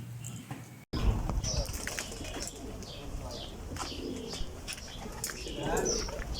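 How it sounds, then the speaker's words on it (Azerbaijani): A racing pigeon coming in to land at a pigeon club loft, a brief burst of flapping wings followed by cooing and scattered chirps from nearby birds, with outdoor ambience and occasional distant voices. "8-ci quşumuz eniş elədi."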